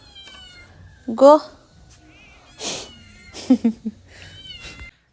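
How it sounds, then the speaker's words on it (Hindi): A cat meows several times indoors near a window, a couple of loud close cries and some shorter ones, mixed with a woman's speech. "खिड़की से ये आएगा अंदर म्याऊं म्याऊं करते हुए"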